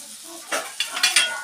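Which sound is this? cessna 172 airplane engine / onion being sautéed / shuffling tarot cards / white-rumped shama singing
onion being sautéed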